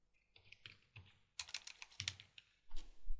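C# code typed on a computer keyboard, with close, crisp clicky keystrokes in short irregular bursts and small pauses between them, and no talking.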